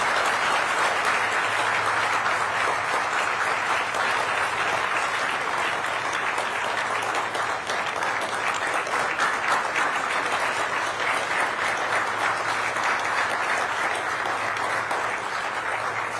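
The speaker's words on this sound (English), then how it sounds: "put your hands together to applaud all of our awardees one more time" The audience at a Managing India Awards evening applauds the awardees with a long, dense, unbroken ovation of many hands clapping at a steady, full level from start to finish.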